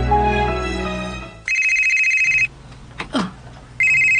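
A cellphone ringtone sounds in bursts, a bright repeating electronic tone that starts, pauses, then resumes loudly, with a faint rustle in the gap.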